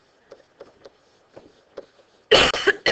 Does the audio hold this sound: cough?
yes